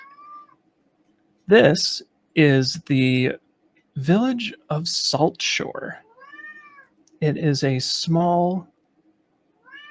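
A pet cat yowls several times in the pauses between a person's clear, close speech.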